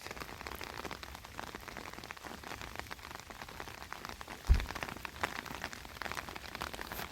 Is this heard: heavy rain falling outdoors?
yes